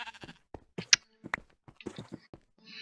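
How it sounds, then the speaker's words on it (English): Sheep bleating in the video game Minecraft, a few short bleats among footsteps and other game sounds, fairly close and clear. "I must kill sheep."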